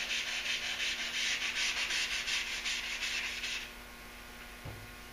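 Primer on a Duramax truck hood is sanded with a Durablock, a rhythmic rasping of quick back-and-forth strokes that stops partway, leaving a quiet room with a faint knock.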